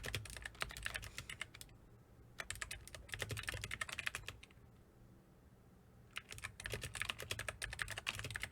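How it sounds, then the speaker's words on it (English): Rapid bursts of typing on a computer keyboard, quiet clicking keystrokes in several runs separated by short pauses, with no talking. "you just type in what you want to do"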